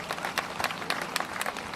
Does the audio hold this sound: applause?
yes